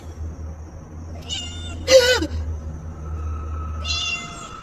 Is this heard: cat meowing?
yes